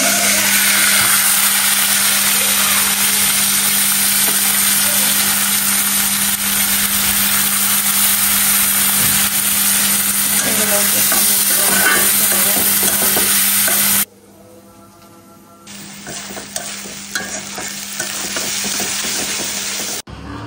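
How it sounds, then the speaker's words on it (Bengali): Onions and chilies fry in a pan for a prawn curry, a loud continuous sizzling roar with occasional stirring clinks, cutting out abruptly partway through before a quieter sizzle and scraping return. "তখন সুন্দর করে কিন্তু ভেজে নিতে হবে এগুলা। আর এই যে পেঁয়াজ মরিচগুলো এখন দিয়ে দেবো।"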